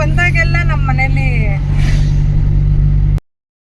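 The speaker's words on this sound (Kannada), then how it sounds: "ನೋಡೋ ಗೇರ್ ಶಿಫ್ಟ್ ಆಗ್ತಿದೆ ನೋಡು, ಸೌಂಡ್ ಆಗ್ತಾ ಇದೆ" Inside a moving car, a steady low engine drone hums beneath people talking, then cuts off abruptly.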